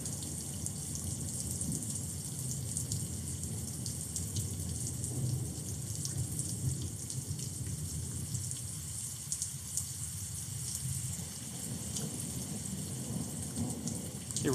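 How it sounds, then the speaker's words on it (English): Steady rain falls in Krabi, Thailand, a dense continuous hiss with low rumbling thunder rolling underneath, no voices, evenly loud throughout. "like having the sound of the rain in the background"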